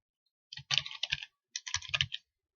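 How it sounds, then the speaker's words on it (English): Typing on a computer keyboard in two quick bursts of clustered key clicks with a short pause between them, close and clear with no talking. "So I'm going to type in"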